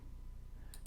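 Two quick computer mouse clicks near the end of a quiet stretch while stepping through a Windows Server 2019 installer, sharp and close.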